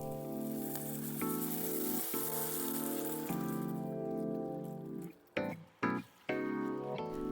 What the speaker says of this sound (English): Continue to stir until the mushrooms are fully cooked